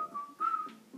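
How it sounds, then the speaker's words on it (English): The whistling zombie in the Plants vs. Zombies video game gives off a thin, wavering whistled tune in short broken phrases, close and clear with no one talking. "Stop with the whistling, you sir."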